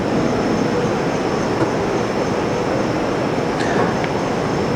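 Haas vertical machining center traversing its Z axis, a steady dense mechanical whir with a constant high whine and brief faint ticks near the end, no voices.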